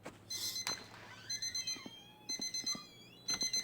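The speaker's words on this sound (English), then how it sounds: "Fucking alarm's going off." An alarm clock goes off in the video game My Winter Car, ringing in repeated short bursts of bright electronic beeps with brief gaps between them, fairly faint over a low background hum.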